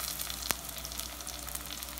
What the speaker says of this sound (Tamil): ஓகே, இப்போ வந்து தக்காளி ஆட் பண்ணிடலாம் அதில்.